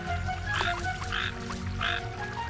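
A cartoon frog croaks three times in a quick, bouncy rhythm, each croak loud and close, over a steady background music bed.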